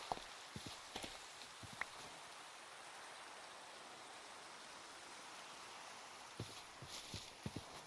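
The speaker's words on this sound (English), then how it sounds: "Of course it's raining" Rain falling in Minecraft, a soft continuous hiss of rainfall at low volume, with a few scattered sharp ticks and taps near the start and end.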